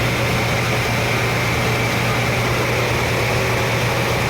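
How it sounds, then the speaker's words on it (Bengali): Two boat engines run together at around 1100 to 1200 rpm, a loud, steady close-up drone with a constant low hum and no pauses or voices. "দুইটা ইঞ্জিনেই কিন্তু প্রায় 1100 করে, একটা 1200 একটা 1100 করে চালানো হচ্ছে"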